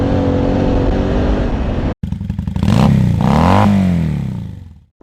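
A BMW F900GS motorcycle ridden off-road, its engine droning steadily, then cutting out briefly before it revs up and rises in pitch with clattering, and finally fades as the throttle closes.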